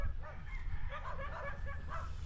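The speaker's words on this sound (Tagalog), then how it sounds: "Daming aso." Several dogs barking and yipping at a distance over a rumbling outdoor background, overlapping and irregular.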